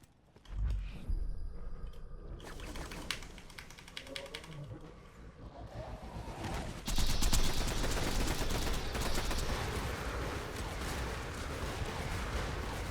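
Rapid gunfire in Borderlands 2 during a raid boss fight against Terramorphous: dense, continuous bursts of shots and impact effects that grow louder and busier halfway through, with no talk.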